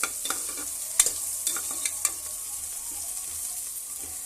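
Onions sizzle in a pan for tomato bath while a spatula scrapes and stirs, with occasional sharp clinks against the metal.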